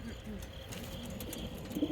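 Racing pigeons coo softly from three crates of old birds waiting to be released for a 150-mile race, a steady low murmur of birds under outdoor talk.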